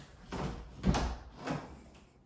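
The back door of a large custom-built mobile home opens or closes with a few soft thuds and rattles, close by and moderately loud, with no talking.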